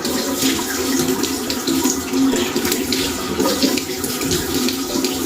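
Tap water runs steadily while foamy face wash is rinsed off a face, a continuous close splashing and gushing that stays even throughout, with no talking.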